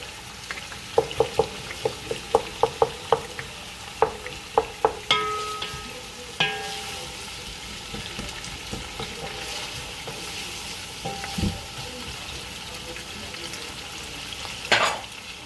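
Dawadawa stirred into a frying pot of village-style Ghana jollof rice: sharp spoon knocks and scrapes against the pot over a low, steady sizzle.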